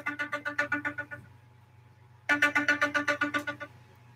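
A phone rings with an incoming call in two bursts of a rapid trilling ringtone, each about a second long, separated by a short pause. The ringing is clear and fairly close, with no talking over it.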